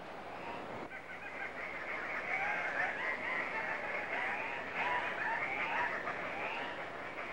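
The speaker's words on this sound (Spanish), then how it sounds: "Un cacareo frenético anuncia que ya llegaron" Forest birds in the Manu reserve at dawn give frantic cackling calls, a dense, continuous chorus of overlapping squawks and cackles set against a steady background hiss, fairly distant and moderately faint.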